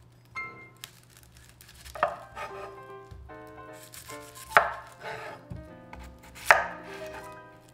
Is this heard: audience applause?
no